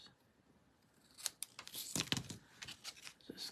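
Scissors snipping through paper for scrapbooking, a string of quick, close crisp cuts with short pauses between bursts.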